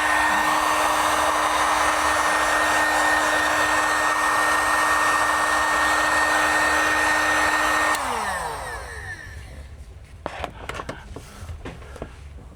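A heat gun heats vinyl wrap on a 2019-2025 Toyota RAV4 rear door, a loud steady blowing whine for about eight seconds, then it drops in pitch and fades as it winds down, with faint handling clicks afterward.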